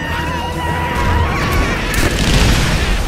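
Giant grenades exploding in a video game. Loud booming blasts and bursts roll over a constant din of game noise, with tonal effects sweeping underneath.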